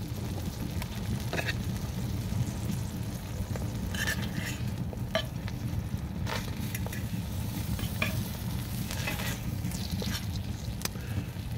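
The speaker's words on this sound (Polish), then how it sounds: "wygląda jako sypek, ale to chyba nie jest sypek, ale się dobrze smaży" Cheese resembling oscypek frying in a pan at a spring campout, giving a steady close sizzle throughout with occasional light clicks of utensils and no talk.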